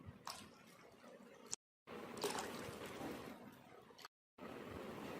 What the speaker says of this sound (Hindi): अब हम इसमें 2 गिलास पानी डाल देंगे